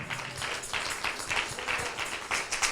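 A church congregation applauding loudly in worship, a dense steady wash of clapping with no clear speech over it.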